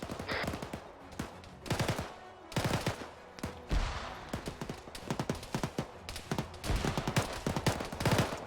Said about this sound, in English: I hear audible fire from the northwest